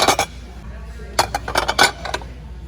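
Madrid pattern depression glass dishes clink and knock against each other as they are handled, in short clustered bursts of bright, close glassy taps.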